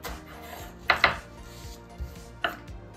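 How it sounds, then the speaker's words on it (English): Knife chopping on a cutting board while making bacon-wrapped venison with garlic cream sauce: a few sharp, close knocks, a quick pair near one second, then single chops spaced out, with no talk. "we'll chop this up a little bit finer once we get going"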